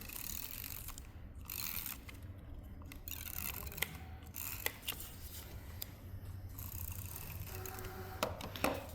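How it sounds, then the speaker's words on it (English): A tape runner rolls adhesive onto paper during papercrafting, giving repeated soft clicking and ratcheting sounds in short, irregular bursts close by. "I'm just going to use my tape runner again"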